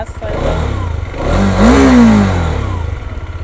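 An RTX300 motorcycle engine revving up and down on a long ride, a loud, close mid-pitched roar rising and then falling, with a person talking over it.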